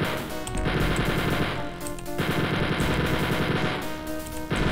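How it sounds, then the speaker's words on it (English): Chain gun in Spear of Destiny firing in long, sustained bursts, loud and continuous with brief breaks, layered over steady game music. "I'd like to use the chain gun here because I don't like to deal with the reloading BS I was talking about"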